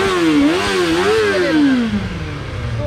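A 2024 Kawasaki Ninja ZX-4R is revved up close, its engine pitch rising and dipping through quick throttle blips before settling lower, loud and alone.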